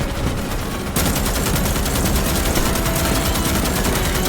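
Relentless automatic fire from a heavy-class weapon defending fortifications against arachnids in the video game Starship Troopers Extermination, a dense rapid stream of shots that grows louder after the first second and holds steady.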